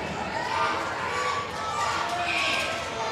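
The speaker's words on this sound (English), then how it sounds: "You can hear this crowd go crazy." Wrestling crowd at a live pro wrestling show roaring continuously in a dense wash of noise, with scattered shouts and a commentator's voice woven under it.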